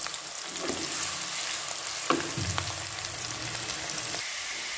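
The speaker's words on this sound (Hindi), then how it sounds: "प्याजों को हम अच्छे से लाइट ब्राउन कर देंगे।" Onions fry in a couple of spoons of oil in a pan, sizzling steadily and close, with a few sharp stirring clinks and scrapes, while no one speaks.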